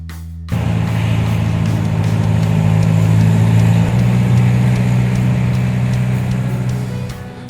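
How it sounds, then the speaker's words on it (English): Old Jeep with stiff leaf spring suspension rumbling along in a convoy at Bromo, its engine starting up sharply then holding a steady, loud, close drone with a slight shift in pitch midway before easing off at the end. "The thrill of riding in an old Jeep with its stiff leaf spring suspension provides a unique sense of adventure for children."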